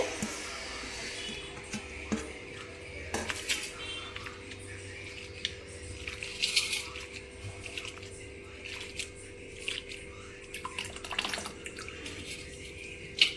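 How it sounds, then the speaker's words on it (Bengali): Grated potatoes are washed by hand in a bowl of water, giving quiet splashes, drips and squishy sloshing that come and go at irregular intervals, with faint background hum. "সবগুলো আলু আমি গ্রেট করে নিয়েছি এবার আমি ধুয়ে নেব"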